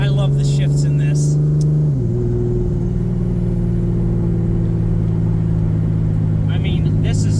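Nissan S14 fitted with a 2JZ engine and 8HP70 automatic transmission, its steady engine drone dropping in pitch at a gear shift around two seconds in, then holding a smooth cruise with faint voices at the edges.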